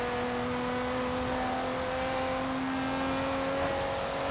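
A car in Forza Horizon 3 cruising back toward a parking lot, its engine holding a steady, even hum at constant pitch with light whirring overtones, moderately loud and continuous with no talking.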